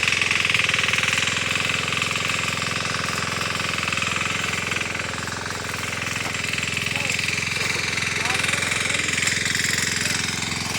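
A tractor engine runs in a farm field during seed sowing and ploughing, making a loud, unbroken, rattling drone that barely changes from start to finish.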